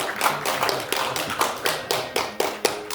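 Sparse, uneven clapping from a cinema audience at a pop-culture film night, with distinct hand claps sounding close and thinning out over a few seconds.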